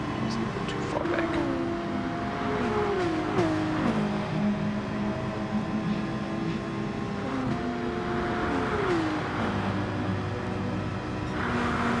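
Race car engines in GT Sport, steady droning tones rising and falling with upshifts throughout, several cars close together in a race near a GTR, with someone talking over the top.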